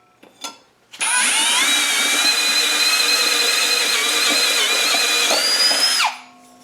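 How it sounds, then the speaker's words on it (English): A RIDGID Gen5X brushless compact hammer drill runs a step drill bit through a hole in a metal strong tie, giving one loud, steady high-pitched whine that lasts about five seconds, rises slightly in pitch near the end, then cuts off. "I'll use this step drill bit to widen one of the holes in this strong tie."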